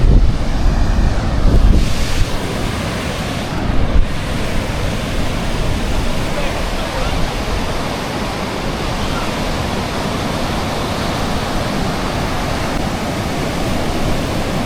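Broadband, steady roar of sea waves breaking on the beach at Cox's Bazar, with wind buffeting the microphone, loud and continuous throughout with no clear talk.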